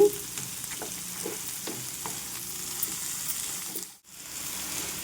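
Cauliflower florets with onion and green chilli stir-fried in a pan for gobi masala fry, a steady close sizzle with soft spatula taps and turns, dropping out briefly near the end before resuming.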